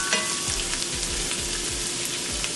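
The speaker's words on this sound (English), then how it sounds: "I'm gonna add in the salmon to this pan" Salmon fillets sear skin side down in a hot frying pan beside onions pushed to one side, giving a steady, close, dense sizzle that holds level throughout with no voices.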